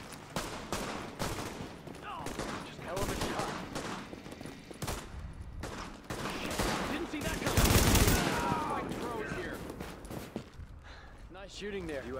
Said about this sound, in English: Shooting there.